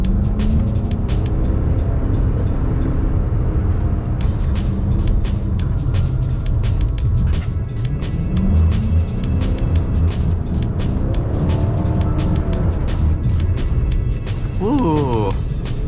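A Dodge Charger drives and drifts on a lightly snowy road, its engine a loud, continuous rumble that rises and falls with throttle, with a voice talking over it throughout.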